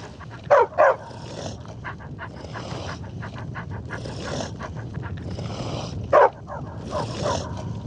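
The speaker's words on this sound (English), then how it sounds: "Oh, I hear a dog too." Dog barking in the video game Skyrim: a few sharp yips in a quick pair, then a single bark later, over a continuous low background murmur.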